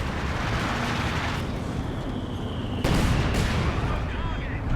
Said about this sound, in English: Mortar pit wipes the pioneers.